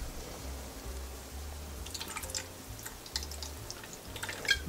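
Olive oil, or another cooking oil, trickles into a bowl for a vinaigrette made three parts oil to one part vinegar. A faint, thin pour with soft drips sits over a low steady hum, quiet and close.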